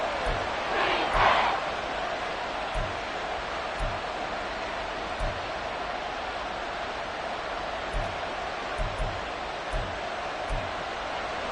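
A football stadium crowd at Arrowhead roars during a game, a dense, continuous wall of noise with a louder swell early on and scattered thumps beneath it.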